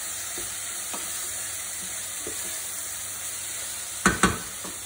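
Beans and vegetables for a vegetable biryani are stirred in a pan over a low background sizzle, with faint scrapes and taps early on and two sharp, louder clatters near the end.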